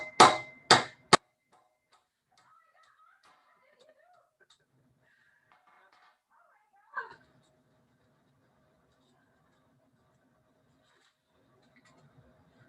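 A hammer strikes a frozen sausage three times in quick succession, sharp loud knocks at the start, followed by long quiet with faint scattered sounds and one softer thud later.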